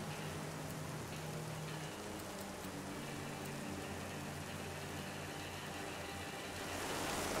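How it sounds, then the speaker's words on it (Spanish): Heavy rain pours down in a steady, dense hiss with scattered drops pattering on surfaces, constant and enveloping, rising slightly at the very end. "Es que la lluvia no veas."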